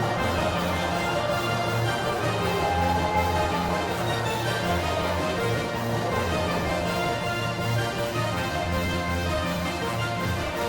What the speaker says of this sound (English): this song is called Orpheus in the Underworld Overture